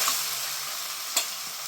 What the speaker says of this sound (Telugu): వేగాయి కదా ఆనియన్స్, మటన్ వేసుకోవాలి.